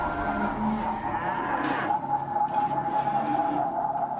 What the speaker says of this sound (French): Charlie entend un son qui vient de l'est, une sorte de vrombissement inhabituel.